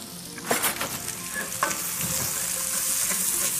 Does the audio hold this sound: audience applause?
no